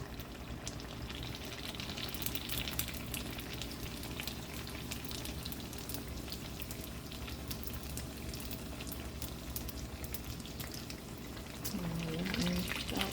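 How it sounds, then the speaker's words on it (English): Ground lamb egg rolls fry in hot oil with a steady, fairly quiet sizzle and bubbling that runs throughout and swells slightly near the end. "I'm about to start putting my egg rolls that I've rolled right up in my oil"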